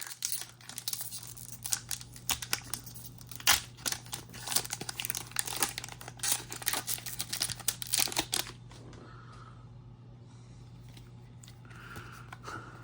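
Pokémon Scarlet & Violet Obsidian Flames booster pack wrapper being torn open, close crinkling and ripping foil for about eight seconds, then fading to quiet card handling.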